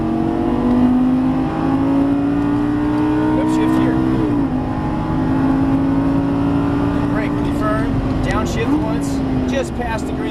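A Lamborghini Gallardo Superleggera LP570 engine drones steadily under throttle with rising and falling pitch as it accelerates, loud and close, while someone talks over it throughout.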